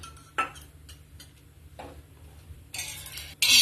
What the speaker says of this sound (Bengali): তেলটা আমি সমস্ত চাটুতে লাগিয়ে দিচ্ছি